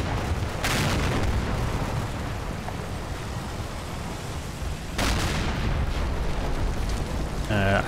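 German artillery fire in Combat Mission: Battle for Normandy, two loud broadband blasts several seconds apart with a low rumbling battle bed between them.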